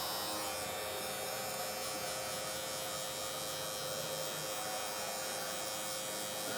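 Gamma Cyborg hair clippers fitted with a 1.5 guard cutting hair, a steady close electric hum and buzz running unbroken throughout with no talking.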